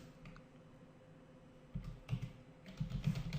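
Keys on a computer keyboard are tapped while JavaScript code is typed, quiet at first and then a few soft, close bursts of clicks over a low background hum.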